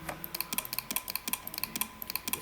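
Rapid computer keyboard key presses in Cartoon Animator 4, a quick irregular run of sharp, close clicks with no voices.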